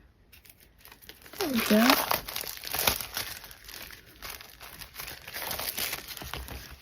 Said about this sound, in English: I used this pick right here to break through the plastic